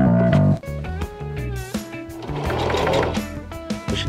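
A sewing machine stitches upholstery fabric on a box cushion seat for a golf cart, running in loud close bursts that stop and start, with no talking.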